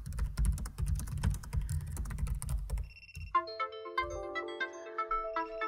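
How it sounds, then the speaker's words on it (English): Rapid clacking of fingers typing on a computer keyboard for a few seconds, followed by a bright Microsoft Outlook desktop notification chime and a short melodic tone. "Sometimes you're typing away"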